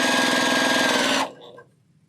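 A sewing machine stitches quilt block pieces in one fast, steady run of needle strokes, loud and close, then stops abruptly about halfway through and leaves near silence.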